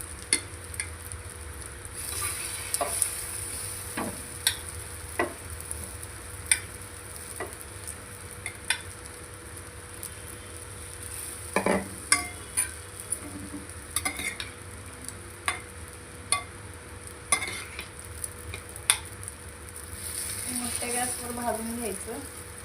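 A bread omelette fries in oil on a pan over a high gas flame, with a steady sizzle throughout, repeated close spatula scrapes and taps, and the sizzling swelling toward the end.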